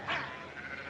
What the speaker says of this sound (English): Adam, let's get those sheep out.